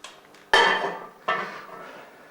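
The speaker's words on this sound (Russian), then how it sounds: "Я ставлю сверху этой кастрюли кастрюлю с водой." A metal pot of water is set down onto another pot with a ringing clank, followed by a second lighter clang as it settles.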